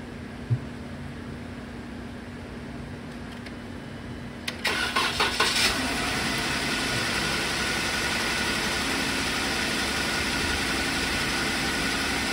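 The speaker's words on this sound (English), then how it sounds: "I'm gonna go start up the Jeep and let's see what we can see." A 2015 Jeep Wrangler 3.6L with a fuel injector open-circuit fault cranks briefly and catches, then settles into a steady, loud idle that fills the rest of the recording.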